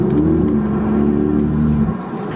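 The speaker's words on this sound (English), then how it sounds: "As soon as again you put your foot down, then that exhaust kicks." A stage 2+ tuned Audi TTS Mk2 with DSG gearbox revs hard under acceleration, a deep, throaty exhaust drone heard from inside the cabin, dropping away near the end.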